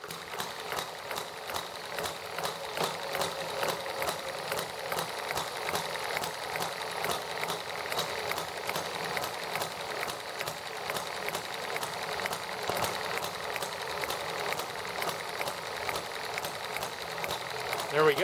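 An ET1 engine runs steadily after ignition, giving a fast, even mechanical ticking chatter at constant pace throughout, while a person talks over it.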